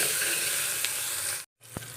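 Asafoetida with ginger and garlic sautéing in hot oil for Malvani-style brinjal bharit, a steady close sizzle and hiss that cuts out briefly near the end, then resumes with a small clink.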